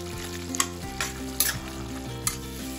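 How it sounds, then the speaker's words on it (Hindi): Kadhai paneer sizzles in a pan as a ladle stirs it, giving a steady frying hiss with a few sharp scrapes and knocks from the ladle, heard up close with no speech. "थोड़ा करछी से हम इसे हिला लेंगे।"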